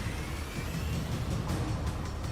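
A truck or taxi engine drives and rumbles steadily in the Mass Effect 2 video game, with a continuous low drone and some mechanical clatter throughout, loud and close.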